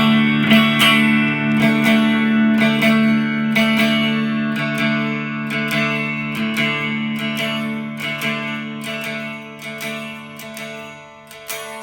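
An electric guitar with a Kinman treble bleed mod, run through a compressor, strums a series of chords that ring and sustain evenly, with repeated sharp pick attacks over a smooth, steady level, played solo.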